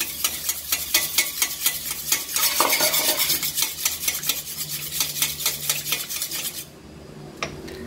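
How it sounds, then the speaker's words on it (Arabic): An egg beaten hard in a bowl with a fork or whisk, producing rapid rhythmic clinking strokes at a steady pace, close and loud, stopping near the end with one last tap. "غندير هاد البيضه هي الاولى، نضربوها مزيان"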